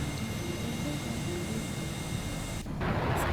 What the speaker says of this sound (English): and then it's the roar of an engine as it soars overhead